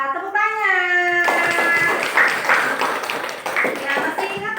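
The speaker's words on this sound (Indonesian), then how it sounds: "Iya, tepuk tangan." A classroom of pupils claps hands together after a teacher's voice, with a burst of rhythmic, fairly close clapping that carries on under mixed chatter and children's voices.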